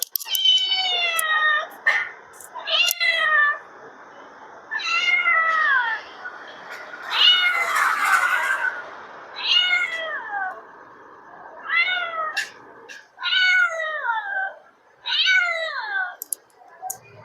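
A cat meows repeatedly, about nine distinct drawn-out, rising-and-falling calls spread evenly with short pauses, loud and close against a quiet background, no talk.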